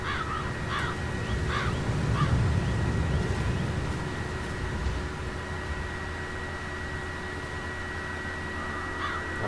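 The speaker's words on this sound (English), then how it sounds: "I'll never get rid of those stupid birds." Crows caw in a few short, repeated calls at a middle distance in the Hitman 3 video game, heard over a steady hiss and a low rumbling ambience.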